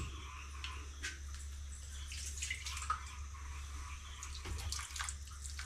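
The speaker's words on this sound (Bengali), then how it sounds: "দিয়ে এর ভিতরে কিছুটা জল দিয়ে দেব" Water poured into jaggery in a wok for a jaggery chutney, a faint steady trickling and splashing over a constant low electrical hum, with no talking.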